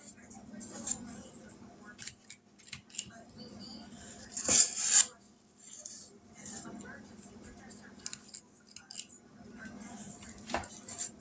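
Chocolate chip pecan cookie dough being scooped, with soft scraping, a few metallic clinks and scoop taps near the mic, mixed in with ongoing talk.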